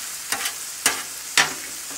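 Ground beef and squash frying in a pan, with three sharp scraping stir strokes cutting through a soft, steady sizzle close by.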